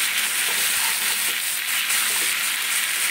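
Food fries in a pan while it is stirred, giving a steady, close sizzle with soft scraping from the stirring. No one speaks.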